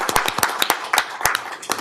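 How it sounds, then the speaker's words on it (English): Sparse claps from a small group at a commission meeting, a few dozen separate sharp hand claps spread irregularly over under two seconds, fairly close and moderately loud with no talking. "let us give you a little applause."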